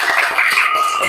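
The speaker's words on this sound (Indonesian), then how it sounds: "Tepuk tangan untuk semuanya." A classroom of students claps together after a Quran recitation lesson, a brief burst of close, uneven hand claps.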